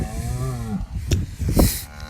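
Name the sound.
cows mooing during a cow fight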